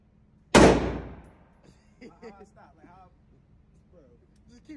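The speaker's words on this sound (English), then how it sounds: "Keep shooting till there's nothing left." A single sharp, loud gunshot at an indoor gun range, a close blast with a ringing tail lasting about half a second, followed by people talking.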